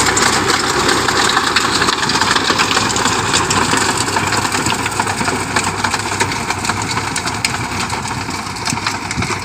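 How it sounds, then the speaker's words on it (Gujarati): A tractor-driven rotavator works a farm field, its engine droning steadily and loudly from start to finish with a dense, continuous rumble and clatter. "રોટાવેટર હાલી રહ્યું છે"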